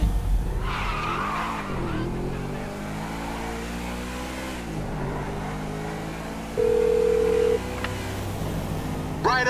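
A convertible in Grand Theft Auto V: engine tones rise and fall as it accelerates and skids, with a steady electronic beep partway through and game music and voices mixed in.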